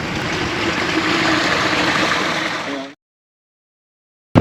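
Lukewarm, sulphurous spring water flows in a steady, close rushing stream for about three seconds, then cuts off abruptly into silence.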